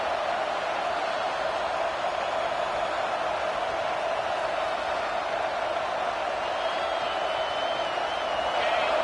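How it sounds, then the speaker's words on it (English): College football stadium crowd, a dense, constant roar of many voices filling the whole stretch at steady loudness, with a faint whistle-like tone partway through. "Listen to the crowd energy here in the early going."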